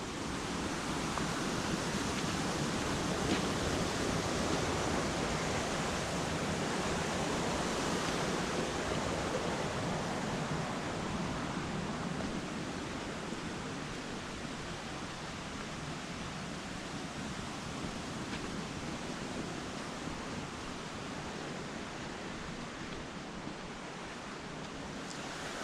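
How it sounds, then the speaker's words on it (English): Cool water running by at Little Zigzag Falls in a shaded spot, a steady broadband rush of falling and flowing water, constant and full with no voices. "with the cool water running by"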